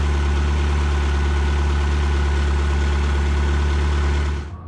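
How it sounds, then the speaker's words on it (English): Lamborghini Temerario V8 cruising at low RPM, a loud, steady mechanical drone with a deep throbbing hum, heard from inside the car and continuing unbroken before cutting off abruptly at the end. "The Temerario's V8 almost sounds, it sounds so purposefully mechanical at lower RPM."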